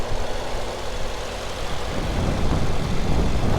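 A 2019 Mercedes-AMG E63 S wagon's twin-turbo V8 idles with a smooth, steady low hum heard close up, with no talking over it.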